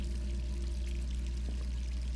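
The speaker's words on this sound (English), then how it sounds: "Or someone left the water running." A tap left running in Resident Evil 3 Remake, steady pouring water over a low droning background hum, continuous and unbroken.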